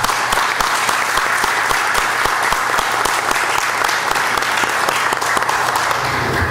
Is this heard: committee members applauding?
yes